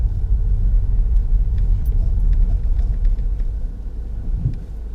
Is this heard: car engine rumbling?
yes